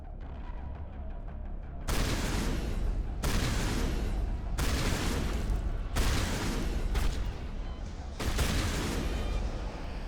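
A frag grenade blast and gunfire in Mass Effect, a run of loud, broad bursts of explosive firing in several separate blocks with brief quieter gaps between them.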